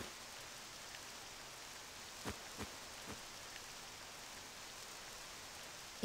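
Steady hiss of rain falling in Octopath Traveler 2, with a few soft drips and taps standing out briefly; no voices.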